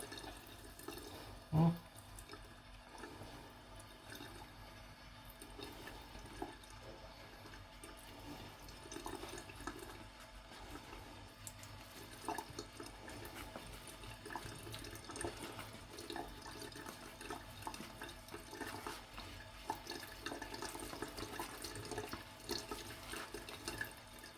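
Cold water runs from a tap into a sink while someone prepares a dental alginate impression mix, a steady close stream broken by a brief knock near the start, with no speech.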